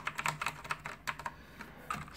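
Fingers type on a Titan Mark 7 mechanical keyboard with swappable blue switches, crisp close clicking keystrokes in quick irregular bursts with a brief pause midway, heard alone.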